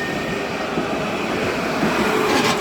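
Class 195 diesel train departing Nottingham station, a loud, continuous rumble of engine and rolling wheels close by, steady throughout with no voices.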